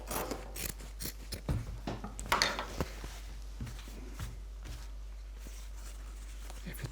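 Scissors snip through fabric while a crazy quilt patchwork square is trimmed, giving a string of quiet close crisp cuts and light handling rustle, with brief talk in the background.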